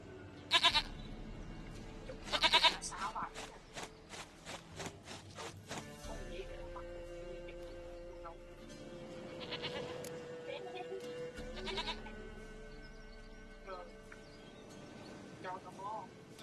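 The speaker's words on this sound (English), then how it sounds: "Goat of mine, dearest, sweetest goat." Goat bleating in the video game The Witcher 3: two sharp, loud bleats early on, followed by quieter game ambience and music-like tones, with a voice speaking over part of it.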